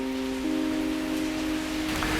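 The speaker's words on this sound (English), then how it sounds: "Now, it's not usually raining in Bangalore right now." Rain falls on a garden patio in Bangalore, a steady broadband hiss of drops with a low constant hum beneath it, continuous and even with no voices present.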